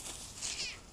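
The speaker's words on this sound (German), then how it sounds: "Oh, hier, Katzen." A cat on a farm gives a short, faint meow that rises and fades in under a second against quiet outdoor background.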